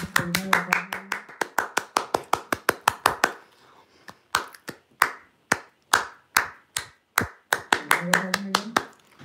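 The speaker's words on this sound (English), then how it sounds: "That's called clapping." Hands clapping in a sharp, close series of claps, fast and regular at first, then slower and more spaced, with people talking over parts of it.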